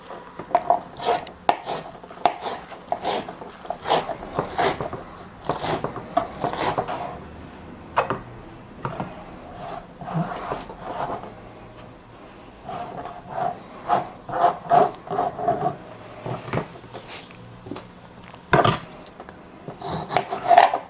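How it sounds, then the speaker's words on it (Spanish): Fresh spinach being chopped with a knife on a board: a long run of fast, irregular chops and scraping strokes, close and fairly loud, with no talking. "Primero cortamos espinaca."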